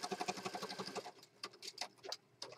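A sewing machine stitches through a thick journal cover in short bursts of quick needle ticks, running steadily at first, then stopping and starting in brief clattering spurts, quiet and close.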